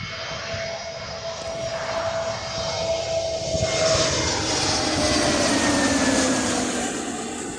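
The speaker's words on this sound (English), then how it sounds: "And actually, we've got a plane landing." A Jet2 airliner comes in to land near Birmingham Airport with a steady, loud jet engine roar that swells and holds, heard outdoors by a park lake with no talking.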